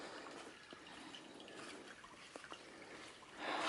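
A small forest brook in Kentucky's Red River Gorge trickles steadily in a soft, faint wash of water with a few brief drips, heard alone without talk.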